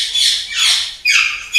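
An Alexandrine parakeet at a parrot-breeding aviary gives three loud, harsh, rasping squawks in quick succession, close up and clear.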